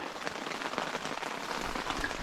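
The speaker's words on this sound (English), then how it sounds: "You can hear it's still raining." Steady rain patters on a surface, a dense, even hiss of drops with no voices, close and continuous throughout.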